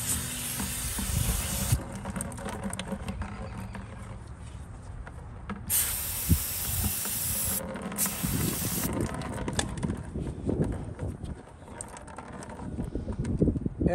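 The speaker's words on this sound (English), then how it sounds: "I'll put a little bit of spray in here" Hissing sprays from an aerosol cleaner can come in several bursts over a low rumbling, rubbing background, fairly close, while cleaning a Troy-Bilt pressure washer air cleaner.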